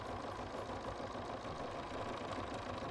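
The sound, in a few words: Bernina embroidery machine stitching a sock design at slow speed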